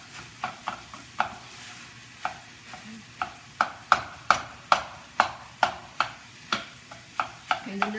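Ground turkey cooks in a pan, scraped and stirred in a steady run of sharp, evenly spaced strokes over a low sizzle, close and fairly loud, with no voices.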